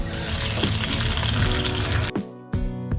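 Hot tempering of dried red chillies fried in oil is poured into Kerala Angamaly-style mango curry, giving a loud, dense sizzle and splutter that cuts off abruptly, then a couple of brief hissing bursts follow; no talking.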